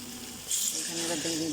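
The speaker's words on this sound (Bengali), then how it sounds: "এখানে এবার দিয়ে দিলাম জল।" Water poured into a pan of cooking vegetables gives a steady, close gushing splash that starts halfway through and continues to the end, with faint background sounds.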